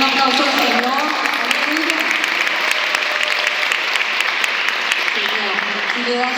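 A church congregation claps for the Lord during a sermon, a dense continuous wash of clapping with a voice speaking or singing over it throughout.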